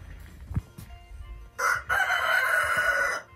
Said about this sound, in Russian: И петухи.